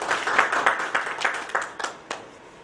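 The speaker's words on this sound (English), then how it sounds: "Please give him a round of applause, everybody." Brief applause at a conference event, a burst of clapping from a modest audience that pulses and fades within a few seconds, with no talk over it.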